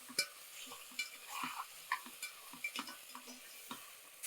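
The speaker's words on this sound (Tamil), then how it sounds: "அதே நேரத்தில் நம்ம வச்சுருக்கிற இந்த தக்காளி அதையும் இதில் சேர்த்துடலாம் சேர்த்துட்டு ஒரு நாலு நிமிஷம் லோ ஃப்ளேமில் அப்படியே வதக்கி எடுத்துக்கலாம்" Tomatoes and onions sautéing in a pan on low flame: soft, quiet sizzling broken by a series of irregular spoon clicks and taps from stirring, close by, with no voices.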